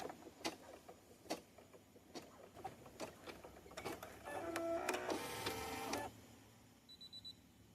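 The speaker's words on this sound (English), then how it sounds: "Now that it's done stitching, we're ready to remove the hoop from our machine." An embroidery machine stitches a corner bookmark in the hoop with a steady run of mechanical thumps, then a brief whirring burst and a few short electronic beeps as it finishes. No voices.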